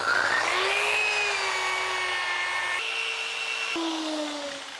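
Power sander working an elephant's ear (ear pod) wood slab for a headboard, a loud continuous whine whose pitch shifts and drops a few times as the load changes, running without talk.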